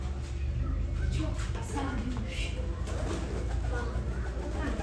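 Soft cooing of pigeons amid steady outdoor background noise, with faint voices mixed in.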